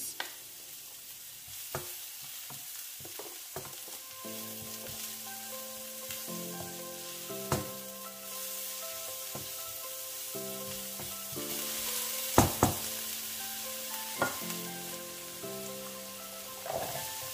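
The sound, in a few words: ginger and garlic frying in pan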